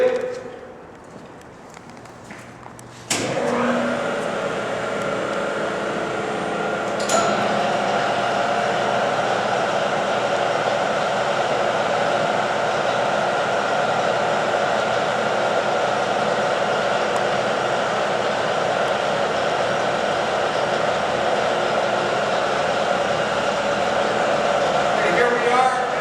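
A Lodge & Shipley HD 24 x 126 engine lathe starts up after a short quiet stretch, then runs with a steady, loud mechanical hum and whine that holds evenly to the end.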